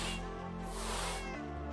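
Cats meowing inside a Minecraft game, a short drawn-out mewing call that rises and falls over a soft steady background, heard close and alone.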